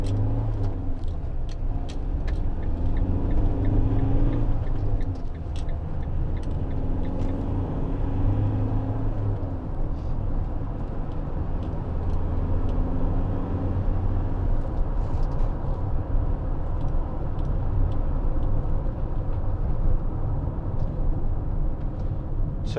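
A Citroen Relay 2.2 HDi 35 Enterprise L3H2 panel van cruises along the road, its steady diesel drone and rumbling road noise filling the cabin continuously, with faint ticks and rattles above and no talking.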